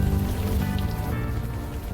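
Steady rain in the Unavowed video game, a dense, even hiss of drops on surfaces, loud and continuous with nothing else over it.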